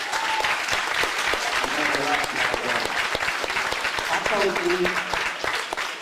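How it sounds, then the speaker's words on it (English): A high school sports awards ceremony crowd applauds, dense and continuous with sharp individual claps standing out, while voices murmur and talk underneath. "let's give her one more round of applause for Shamoya, please"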